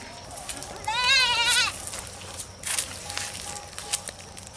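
A baby goat bleats in one loud wavering cry near the start, followed by softer scattered sounds and faint background voices.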